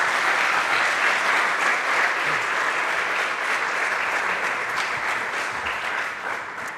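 A conference audience applauds steadily after a talk at a Berlin event, a dense, even wash of many hands clapping that holds for several seconds and then starts to fade slightly toward the end.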